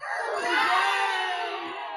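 A crowd of guests cheers and shouts in a sustained, loud burst, a party-style crowd sound effect in an Alexa interactive story game, steady for about two seconds.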